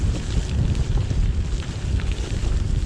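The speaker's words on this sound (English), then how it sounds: "coming down pretty hard now and it's windy" Heavy rain and strong wind battering a rider on a gravel bike, a loud, dense roar of buffeting gusts and downpour that carries on steadily throughout.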